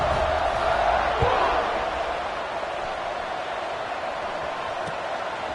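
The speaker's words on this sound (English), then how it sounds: "this crowd is buzzing after that last score" Football stadium crowd buzzing after a touchdown, a steady wash of distant crowd noise with a brief swell of cheering early on, then settling into a constant murmur.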